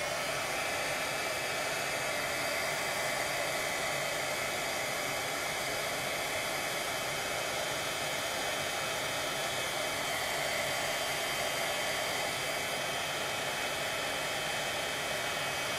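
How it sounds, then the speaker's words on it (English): A heat tool blows a steady, loud whooshing roar while setting embossing powder on a papercraft project. The noise is continuous and unchanging for the whole stretch, with no talking. "now I'm going to bring in my heat tool and heat set this"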